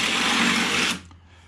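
A power tool serves as a makeshift reamer during a Jeep TJ rear tube fender build, giving a steady high buzzing whine close up for about a second before it cuts off.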